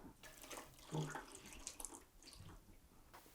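Cooled boiled water pours and splashes into a container of ground soybeans and barley in irregular gushes, quiet and close, with small trickles and drips.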